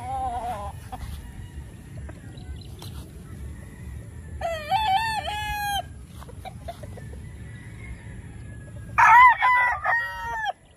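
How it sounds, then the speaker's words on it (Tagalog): On a large poultry farm, many roosters crow in two long, loud bursts over a constant low bed of clucking and flock murmur. "Ang daming manok, oh, grabe."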